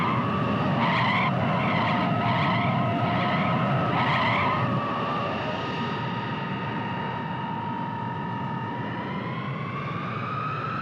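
A vehicle on an airport runway brakes hard, its tires letting out a long, loud, sustained screech with a few pulsing squeals near the start, and the pitch slowly drifts upward as the skid drags on over a rumbling background.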